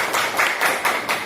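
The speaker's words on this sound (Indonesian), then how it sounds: "Tepuk tangan dulu buat kalian." A classroom of students claps together in a steady run of loud, evenly spaced bursts, a short, brisk round of applause with no talk over it.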